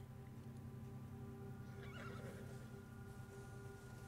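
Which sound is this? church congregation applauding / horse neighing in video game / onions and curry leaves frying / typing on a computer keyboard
horse neighing in video game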